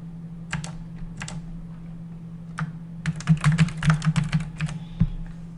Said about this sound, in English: We can go ahead and type in anything we want additional.